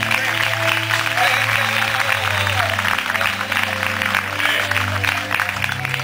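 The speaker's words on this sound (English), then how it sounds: "Let's give a nice rousing round of applause for Mr." A concert crowd gives a singer steady, full applause throughout, with loud continuous clapping over a low sustained background hum.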